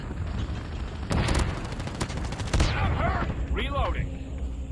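Gunfire in a video game, with sharp bursts of rapid shots in quick succession, followed by whooshing and ricochet-like effects, heard fairly loud over continuous background game noise, with people talking.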